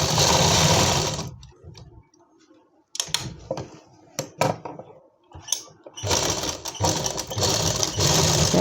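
A sewing machine stitching the fabric of an Afghani palazzo runs in loud, fast whirring bursts at the start and the end. In between come quieter clicks and handling sounds from adjusting the fabric.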